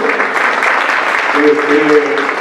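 An audience at a centenary talk on Álvaro Carrillo gives brief applause, with a voice speaking over the clapping.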